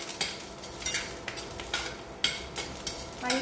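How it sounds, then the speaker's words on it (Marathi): Garlic frying in oil in a pan for instant amla pickle, a steady close sizzle broken by repeated scraping stirs at an uneven rhythm. "रोस्ट करून त्याला थोडंसं तेलामध्ये फ्राय करूया"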